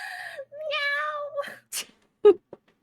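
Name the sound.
cat meowing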